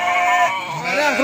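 Sheep from a small farm flock bleat up close, one loud wavering cry followed by an overlapping second bleat, with no talking.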